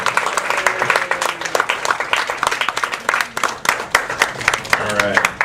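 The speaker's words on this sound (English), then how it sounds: "Everybody give them a big round of applause." A seminar audience at a health and diabetes talk gives a round of applause, dense and continuous clapping over several seconds, with voices talking and cheering through it.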